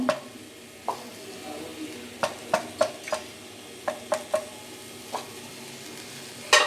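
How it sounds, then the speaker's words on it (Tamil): Amla, ginger and slit green chillies sautéing in a pan on low flame with little oil, a faint soft sizzle under sharp intermittent spatula scrapes and taps, close and without talk. "அது சிம்மிலே வச்சு நல்லா வதக்கி எடுத்துடணும்."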